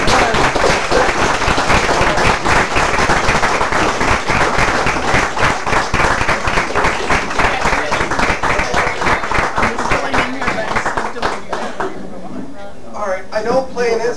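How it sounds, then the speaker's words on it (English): An audience at a Pride coffee house show breaks into sustained clapping for the opening performers, steady and dense for several seconds before fading as a voice begins speaking. "Let's give them a round of applause."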